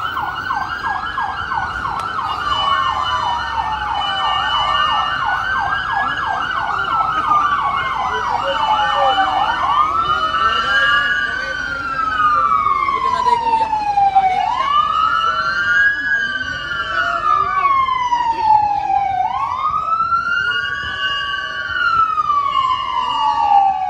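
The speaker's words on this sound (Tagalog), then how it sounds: "Talagang matindi yung wangwang ah." Emergency vehicle sirens wail loudly through a city festival parade, with rising and falling tones sweeping up and down repeatedly, several sirens overlapping and continuing without pause.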